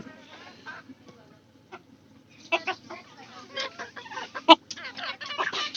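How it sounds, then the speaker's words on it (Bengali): A chicken clucks at close range in short irregular bursts over quiet farmyard background, with one sharp, louder squawk near the end. "খালি একটু ডিস্টার্ব করে এই মুরগিটাই"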